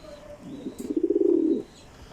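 A racing pigeon gives a soft, low rolling coo, a single throaty phrase of about a second, close by in a quiet setting.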